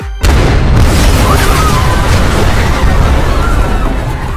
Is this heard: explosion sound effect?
yes